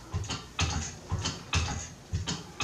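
A Hoyer patient lift is cranked up with a hand mechanism, giving rhythmic ratcheting clicks in about five evenly spaced bursts, close and moderately quiet, with no voices.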